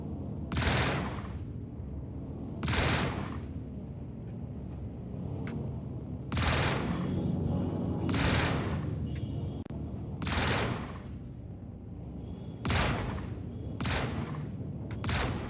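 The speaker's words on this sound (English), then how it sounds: "I gotta just keep circle strafing here with 2 shots until he blows up." Spaceship weapons fire in the video game Star Citizen during a dogfight, with heavy blasts repeating roughly every two seconds over a constant engine rumble, loud and close.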